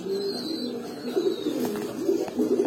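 A moulting pigeon coos in short, soft rolling bursts nearby, with faint chirps from other birds in the background and no speech.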